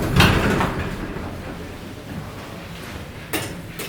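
A Dover hydraulic elevator door at the University Bookstore at Stanford University slides with a dull rumbling rush at the start, settles into a low hum, then gives a brief clunk near the end.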